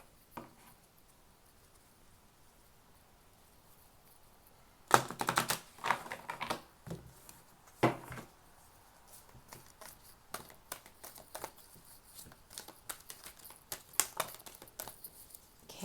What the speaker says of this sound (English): I'm going to shuffle in stages here